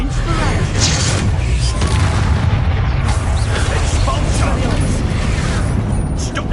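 Explosive spell blasts in the video game Hogwarts Legacy, a dense continuous rumble of booms and bursts with a loud, steady roar throughout, voices talking over the barrage.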